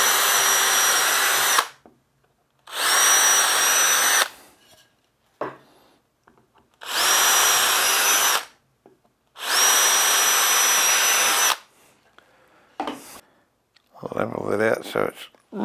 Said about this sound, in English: Now we'll just drill these.